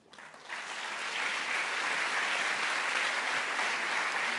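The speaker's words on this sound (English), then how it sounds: "This is your applause." Applause from the audience at a European leaders' strategic forum in Slovenia, a broad, even wash of clapping that swells up within the first second and holds steady and full throughout.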